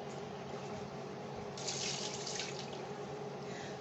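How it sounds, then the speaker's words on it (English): Water running and draining in a kitchen sink while potatoes are prepared, a steady close rush that swells louder for about a second partway through, with no talking. "Just went ahead and drained some water."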